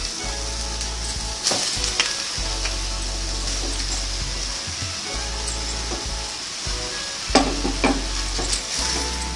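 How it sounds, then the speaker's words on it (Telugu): Chicken pieces and onions fry in a pan for a Hyderabad-style chicken curry, giving a steady close sizzle with stirring clatter and a few louder scrapes, no talk. "పచ్చి వాసన పోయే వరకు బాగా ఫ్రై చేసుకుని ఇప్పుడు ఇందులో చికెన్ ముక్కలు వేసుకోవాలి"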